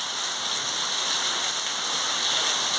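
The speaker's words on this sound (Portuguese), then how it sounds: "Muita chuva." Heavy rain pouring down in a backyard in Brazil's Nordeste, a dense, loud, unbroken hiss of falling water with no voices.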